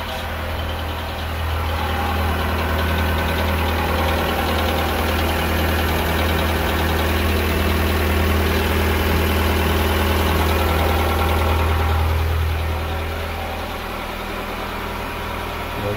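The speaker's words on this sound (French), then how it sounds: "Laisser le moteur tourner un peu" A Volkswagen Polo 9N3 engine idles steadily up close for a long stretch, a low, even rumble with a faint knocking texture and no talking.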